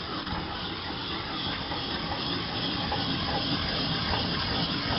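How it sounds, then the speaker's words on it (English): Lotus root grated into fine pulp on a porcelain grater, producing a continuous, even, hissing rasp in a steady circular rhythm, close up and moderately loud, with no talking. "we will take this lotus and we will grate it to a very fine pulp"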